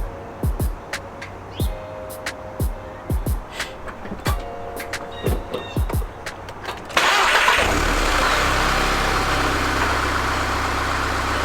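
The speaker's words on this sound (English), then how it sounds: "the car started up" A Volkswagen Mk6 GTI's starter cranks in several short rhythmic bursts, then the tuned engine catches and settles into a steady, close idle.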